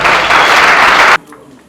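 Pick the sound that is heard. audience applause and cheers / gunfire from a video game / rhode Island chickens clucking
audience applause and cheers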